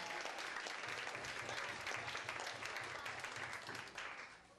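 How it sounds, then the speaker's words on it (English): Crowd applause at an adult spelling bee honoring every competing team, a dense wash of many hands clapping that holds steady, then tapers off toward the end. "And let's give a big clap for every team here"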